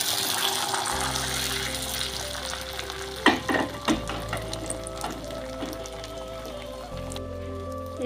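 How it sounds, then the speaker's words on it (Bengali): An egg fries in oil in a pan for an egg roll, with a steady crackling sizzle, a few sharp spatters in the middle and a low hum underneath. There is no speech. "এবার আমি ডিমটা ভেজে নেব।"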